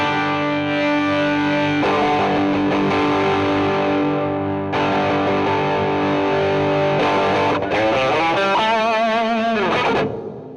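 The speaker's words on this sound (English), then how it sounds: "this is an overdrive, not a distortion, so it actually adds a lot more distortion" A sustained, gritty electric guitar played through a Valeton OD-10 overdrive pedal rings out in held chords, shifting to a few bending notes before cutting off at the end.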